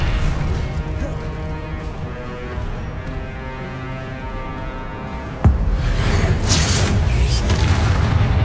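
Spells detonate in the Hogwarts Legacy video game, with low rumbling blasts and a sharp crashing impact midway, followed by a louder, denser barrage of booming explosions.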